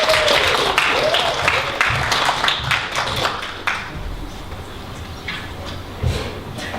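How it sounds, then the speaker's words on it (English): A variety show audience applauds two singers at a university drama society show, with a busy wash of clapping that gradually thins. A few scattered louder claps and low rumbles sit underneath. "Can we get a round of applause for Sam and Katie?"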